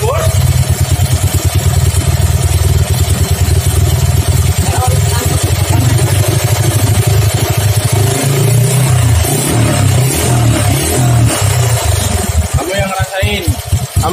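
Standard motorcycle fitted with a high-compression racing camshaft, loud and close, idling roughly then blipped to higher revs with a throaty, lumpy engine note that rises and falls, ending in a brief clattering burst.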